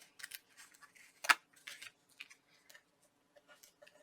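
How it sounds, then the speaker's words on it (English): Scissors snip card paper in a few short, quiet cuts, with a sharper clip partway through and light handling sounds around them. "I'm going to trim a little off."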